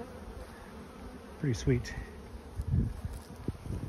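Bees buzz around hive entrances at an apiary, a soft steady hum with brief louder passes near the microphone, while a person says a few words over it.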